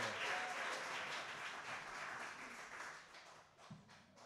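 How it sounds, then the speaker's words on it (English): Soft, fairly distant applause at a music school winter recital, a quiet wash of clapping for a young performer that gradually thins out toward the end. "Give Davis another round of applause."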